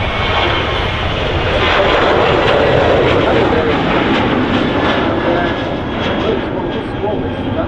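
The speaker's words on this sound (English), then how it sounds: "737-800 series. Just departing nice and close there." A Ryanair Boeing 737-800 departs close by at Manchester Airport, a loud, rising and sustained jet engine roar with whining tones lasting the whole stretch, with some talk mixed in beneath it.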